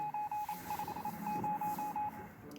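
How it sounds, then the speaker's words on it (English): Military-style electronic beeping from the video game 60 Seconds Reatomized, a steady run of rapid, evenly pitched tone pulses in a quick stuttering rhythm, fairly faint over a low background hum. "This sounds like a military beep boop."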